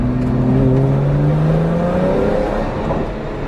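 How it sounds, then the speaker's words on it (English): Turbocharged car engine revving with a deep rumble, rising engine tones climbing steadily, loud and close with the turbos audibly working. "And of course you hear those turbos sucking and blowing"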